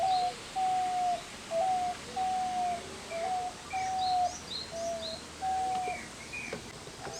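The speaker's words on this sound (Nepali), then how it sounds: "यो माथिको चरा अघिदेखि नै मेरो नजिकमा आएर खाजा खोजा होला" A pigeon coos repeatedly close by in a city, about seven steady low calls in an even rhythm, with faint chirps of other birds and a soft hum of background noise underneath.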